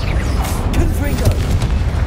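The Confringo spell fires in a Harry Potter video game: a booming, crackling burst of magic with whooshing swirls over a constant low rumble of game ambience, loud and close.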